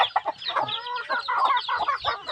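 Chickens clucking and squawking close by in quick, busy bursts, with a rooster-like call mixed in.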